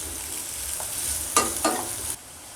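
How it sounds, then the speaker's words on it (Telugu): Onion pieces salted and frying in a pan for a mutton cashew roast, a steady close sizzle with two brief scraping stirs near the middle before the sizzle drops away. "బాగా ఫ్రై చేసుకోవాలి."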